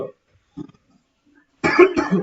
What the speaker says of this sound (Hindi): खांसी आ रही थी